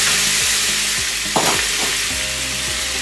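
Chopped tomato and chili fry loudly in a pan for Nepalese vegetable momo filling, a dense close sizzle with stirring scrapes and the faint squeal of a utensil against the pan.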